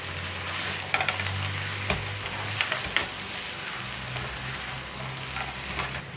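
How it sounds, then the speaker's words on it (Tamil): Chicken fry cooking in oil on a slow flame, a constant close sizzle with soft crackles and a few light pops of stirring, no voices. "பாருங்க எண்ணெயெல்லாம் கசிஞ்சு சூப்பராக வந்திருக்கு சிக்கன்"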